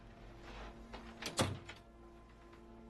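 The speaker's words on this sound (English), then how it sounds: "Close the door. Close the door." A door swings shut indoors with one soft thud in the middle, preceded by faint rustling and shuffling, all fairly quiet and close.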